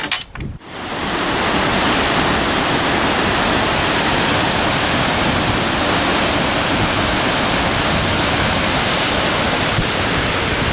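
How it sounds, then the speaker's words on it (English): A strong waterfall in the Kakwa Wildlands in mid-September, heavy water roaring as a loud, steady broadband rush that holds unbroken throughout, with no voices. "now here I am, mid-September, and the water is flowing strong"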